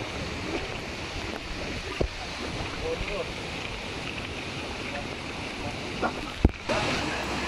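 Kawasan Falls in Cebu pours with a steady, full roar of rushing water that never lets up, heard up close with a few faint knocks and a brief sharp thump near the end.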